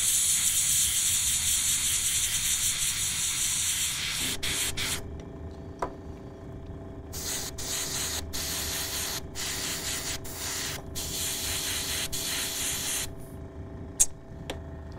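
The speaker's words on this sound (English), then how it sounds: "Wasn't getting the paint out of the airbrush in the way that it always comes out" An airbrush sprays paint while batch painting miniatures, with a steady close hiss for several seconds and then a run of short, stuttering bursts of spray separated by brief pauses.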